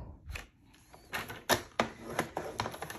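Paper is creased into folds for a large gift box, giving close, irregular sharp taps and rustles, some louder than others, in an otherwise quiet room.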